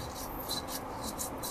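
Quiet rhythmic scraping and rubbing of stone on stone, a few grinding strokes in quick succession from a stone mortar and pestle, faint and close.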